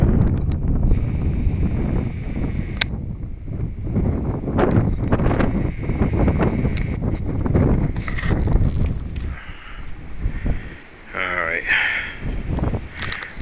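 Strong gusty wind buffets the microphone outdoors on a stormy day just before a tornado, a loud steady roar with rushing surges, while a person talks over it.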